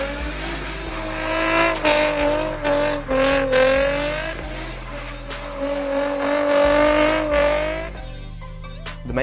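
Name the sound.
Infiniti G35 rear-wheel drive car doing skids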